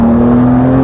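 An MG ZS 180 car engine pulls hard under acceleration, a loud, close, steady drone with a strong, even tone over a very short moment.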